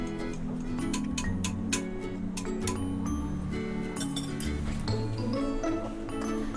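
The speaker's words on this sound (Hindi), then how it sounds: "अब हम तमाम चीज़ों को अच्छी तरह मिक्स करेंगे।" Lemon juice marinade for chicken tikka biryani being mixed in a bowl, a series of close clinks and taps of a spoon against the dish in an irregular rhythm, with low kitchen hum underneath.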